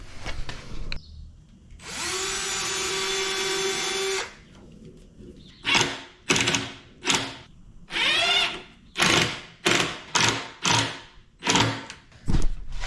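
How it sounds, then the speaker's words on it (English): A power drill drives screws into cabinet trim inside a camper van kitchenette, first with one steady whine lasting about two seconds, then with a rapid series of short, loud bursts close by. "I'll just get a few screws in there on either side"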